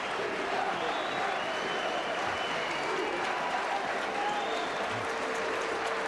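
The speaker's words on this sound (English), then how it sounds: "Listen to that crowd." A large rugby stadium crowd at a cup semi-final cheers and applauds continuously after a try, a dense roar of clapping and shouting with a few whistles rising above it.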